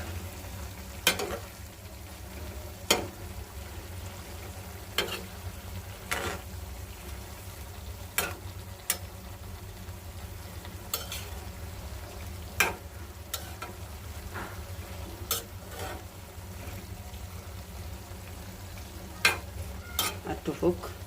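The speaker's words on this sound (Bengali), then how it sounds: "তো সব মশলা দিয়ে এই যে কষানো হতেছে।" Spices sautéing in a pan, a faint, steady sizzle with occasional light taps and scrapes of a stirring utensil spaced several seconds apart.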